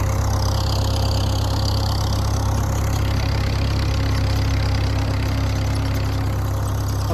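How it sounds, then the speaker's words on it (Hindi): Tractor engine running while sowing a new maize variety in a field, a steady loud low diesel drone with a constant throb, no voices over it. "काशिफ भाई इस वक्त जो हैं वो ट्रैक्टर के ज़रिए काश्त कर रहे हैं।"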